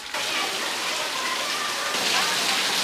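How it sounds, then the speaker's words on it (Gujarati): Heavy, steady rain pours down in a village courtyard, a dense continuous hiss of drops hitting surfaces and standing water, close and loud throughout with no voices. "સવારનો નહીં પણ કાલનો વરસાદ ચાલુ પડ્યો છે અને હજી ચાલુ જ છે."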